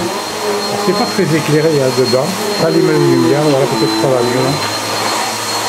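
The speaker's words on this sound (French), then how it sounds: "alors là, on entend l'aspirateur" A household vacuum cleaner runs loudly and steadily with a wavering whine, while people talk over it.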